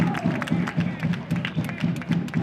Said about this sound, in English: gets a standing ovation from this crowd and a bang of the drum